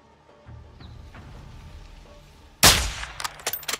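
Sniper rifle shot in Call of Duty Modern Warfare 2, one sudden loud crack after a quiet lead-in, followed by a ringing tail and a few sharp clatters.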